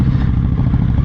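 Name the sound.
Yamaha R9 motorcycle accelerating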